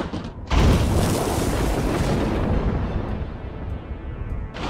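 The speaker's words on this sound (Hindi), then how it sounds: "ये धमाके की आवाज भाई" A sudden heavy boom bursts in during a Minecraft multiplayer game, followed by a long rumbling roar that slowly fades, with no voices.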